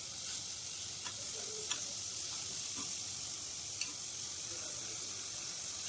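Spices for white rajma curry sautéing in a pan, a steady loud sizzle with occasional light taps of stirring.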